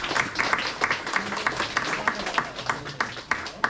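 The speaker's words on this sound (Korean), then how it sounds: "홍희 선생님께 다시 한번 큰 박수 부탁드리겠습니다" At an environmental talk concert with high school students, an audience applauds a teacher. The clapping is moderate and scattered, with a few louder individual claps and some faint murmuring beneath.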